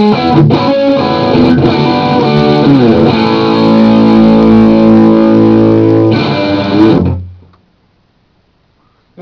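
Telecaster fitted with a P90 pickup, played through a Rivera Rake amp set to a crunchy Marshall-style plexi tone, rings out loud and distorted with sustained chords, then is cut off and fades to silence.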